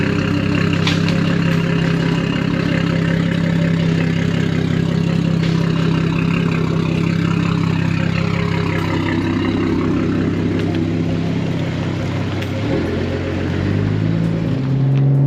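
A BMW M240i xDrive with an 830 wheel horsepower T51R turbo kit and 6466 top-mount turbo idles steadily, a loud, continuous low engine rumble close by that barely changes across the clip.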